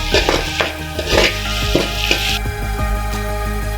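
Sliced onion and four green chillies fry in a pan for an egg gravy: a loud, close sizzle with quick, rhythmic stirring and scraping throughout, and no voices.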